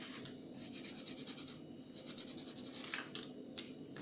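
Inexpensive watercolor pencils scribble on paper, giving quiet, rapid scratchy strokes in uneven bursts with a few sharper ticks, close and faint.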